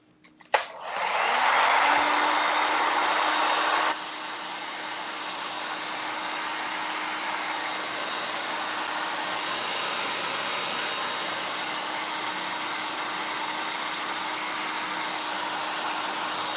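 A hair dryer used to dry a craft project clicks on and blows a loud, steady whoosh that drops to a lower setting after a few seconds and keeps running evenly, up close with no talk.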